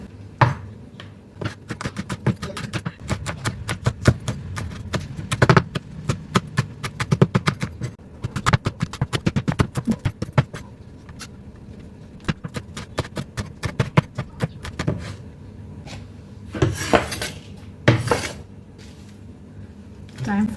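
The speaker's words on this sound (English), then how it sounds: "Time for my green chilies." A knife chops green chilies on a board for pakora, giving a quick run of sharp, close taps in uneven bursts with a faint background hum and no speech.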